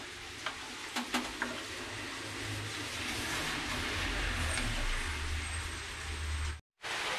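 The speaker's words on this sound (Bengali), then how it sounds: "এবার একটু নাড়িয়ে দেবো" Chicken stew being stirred in a pan, a steady sizzling bubble with a few clinks of a spoon at the start, then a continuous low rumble before a brief cut near the end.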